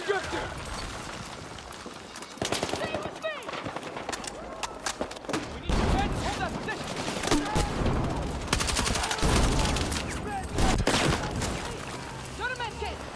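Rapid automatic gunfire and scattered bursts from Battlefield 6 Season 3 gameplay, dense volleys and fusillades in irregular clusters over about thirteen seconds, with a voice talking under parts of the shooting.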